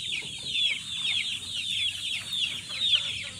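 False Spark Gray chickens cluck and chatter steadily in a pen, a dense overlapping run of soft calls at close range with no voices.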